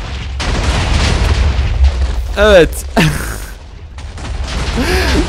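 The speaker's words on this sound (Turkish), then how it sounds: "Bu TNT'leri patlatabilirim." TNT blocks detonating in the Minecraft video game, a few loud booming bursts spread across several seconds, mixed with an excited voice talking and laughing.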